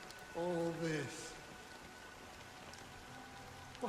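Steady rain falls as a soft continuous hiss in the video game Honkai Star Rail, with a voice speaking briefly over it near the start.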